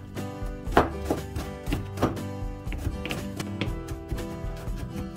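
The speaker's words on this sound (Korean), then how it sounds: "마늘도 곱게 다져 준비합니다." A knife chops repeatedly on a cutting board while garlic is finely minced, with irregular close taps over steady background music.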